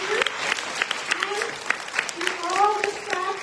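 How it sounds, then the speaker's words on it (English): Scattered clapping from a school concert audience honoring the music teacher, a fairly thin, uneven patter with voices talking and calling out over it throughout. "So a big round of applause to Mr."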